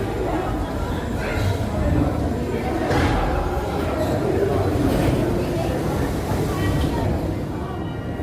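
Steady rumble of a theme park train ride at Europa Park, Germany, running along the tracks, with people chattering over it throughout.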